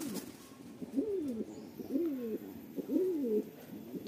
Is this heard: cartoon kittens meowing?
no